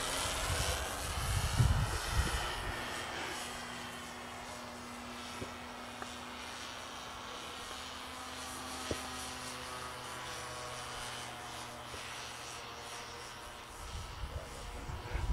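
An FMS Cub radio-controlled airplane drones overhead at a July 4th outing, a thin steady motor whine rising and fading as it flies past, moderately distant with faint outdoor background.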